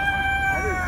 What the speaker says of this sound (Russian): А я думала, где у нас петух, понимаете, разрывается.